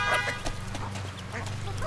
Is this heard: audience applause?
no